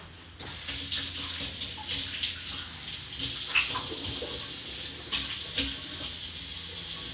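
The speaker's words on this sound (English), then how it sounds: "Hold on, let me wash my hand." A tap runs steadily into a sink while hands are washed, a close, even rush of water with small splashy bumps and no speech.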